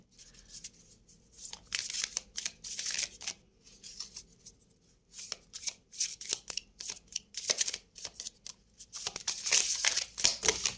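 Tarot card deck being shuffled by hand, a long run of crisp riffling and flicking bursts in uneven rhythm, close and fairly quiet, growing busier toward the end with no talk.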